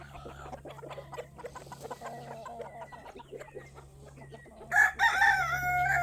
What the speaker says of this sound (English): All it takes is a rooster to make that call